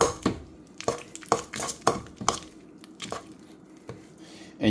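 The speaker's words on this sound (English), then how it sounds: "after you've creamed the butter is you want to scrape down the sides of the bowl" A spatula scraping creamed butter down the sides of a mixing bowl for pound cake: a steady run of sharp scraping strokes and taps against the bowl, roughly evenly spaced about every half second, close and clear.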